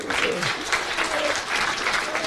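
Audience at a men's rights movement panel discussion applauding: steady, dense clapping from a sizeable crowd, close and fairly loud, continuing throughout without a break.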